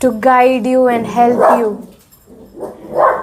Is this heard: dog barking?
yes